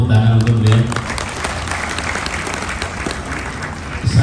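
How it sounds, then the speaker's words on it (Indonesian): A large forum audience applauds presidential candidate Anies Baswedan at an interfaith gathering, dense sustained clapping filling the room, with a voice briefly heard at the start. "Tepuk tangan untuk beliau"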